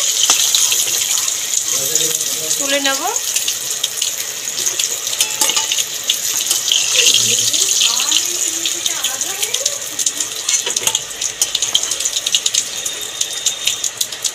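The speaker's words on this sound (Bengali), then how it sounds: "তেলটা গরম হয়ে গেছে, মাছের মাথাগুলো তেলের মধ্যে দিয়ে দিয়েছি আমি।" Fish heads, hilsa in a Bengali kitchen, sizzle loudly in hot oil as a steady crackling hiss throughout, with someone speaking briefly over it.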